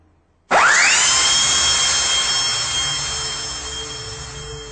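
A dentist's drill starts suddenly as a piercing high-pitched whine that rises quickly to full speed, then holds steady and loud for several seconds with a slowly fading level.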